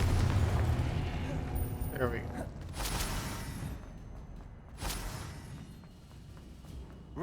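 Confringo spell blasts in the Hogwarts Legacy video game land as a couple of short booming bursts over continuous game background noise, with a voice speaking in between.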